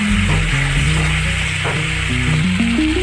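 A mixed spice paste for a rohu fish curry with ridge gourd fries in a pan, a loud continuous sizzle with a low rising tonal hum beneath it, no voices.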